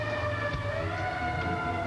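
Fire station dispatch alert tones for Tower Engine 8 sounding at 2 in the morning, steady sustained electronic tones that hold without a break, with no voices over them.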